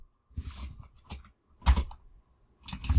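A handful of computer keyboard keystrokes typing code, in short irregular bursts of crisp clicks, close and moderately loud, with brief pauses between the clusters.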